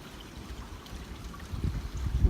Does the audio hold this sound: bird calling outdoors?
no